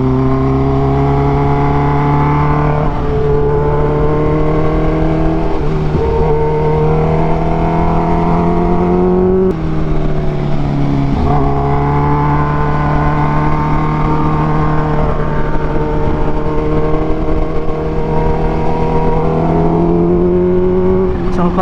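A 2023 Kawasaki H2 supercharged motorcycle is ridden, its engine a loud, steady, close drone that rises and falls in pitch as it pulls through the gears, with no voices.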